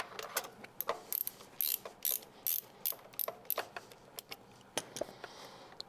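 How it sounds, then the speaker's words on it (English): A ratchet wrench clicks in sharp, uneven bursts while backing a spark plug out of a car engine after the ignition coil is pulled, the metallic pawl rattle close and fairly quiet with short pauses between strokes. "once you get the coil off, you can go ahead and remove the spark plug"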